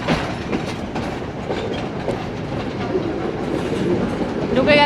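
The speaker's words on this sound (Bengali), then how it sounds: "ঢুকে গেছে আমাদের train Mount Lavinia railway station" A train rolls into Mount Lavinia railway station in Sri Lanka, its wheels clicking and clattering in a close, continuous rhythm that grows slightly louder toward the end.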